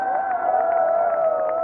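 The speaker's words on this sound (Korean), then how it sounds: "다시 한번 이 정도 박수 되겠습니까?" A crowd at an outdoor candlelight rally in Gwangju applauds and cheers, a brief burst of clapping and voices sounding loud and close throughout.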